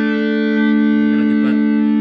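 Electric guitar through a Harmonist pitch-shift effect producing an out-of-tune harmony, a single held chord ringing steadily and loudly up close for about two seconds.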